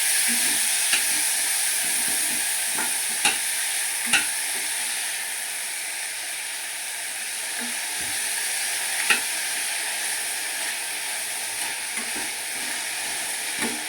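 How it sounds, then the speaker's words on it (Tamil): Two medium tomatoes sautéing in a hot pan for a crab curry, a constant close hiss and sizzle with occasional soft clicks of stirring, no voices over it. "2 மீடியம் சைஸ் தக்காளி போட்டுட்டு கொஞ்சம் வதக்கி விட்டுக்கோங்க"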